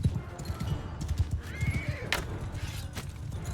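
Horses of mounted bandits in the Mount and Blade Bannerlord video game, a loud neigh rising over rapid galloping hoofbeats and the clatter of a skirmish, close and busy.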